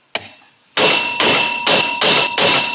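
A hammer knocks at a U-joint on a squarebody truck: one sharp strike, then four loud, evenly spaced metallic blows that ring briefly, close and alone.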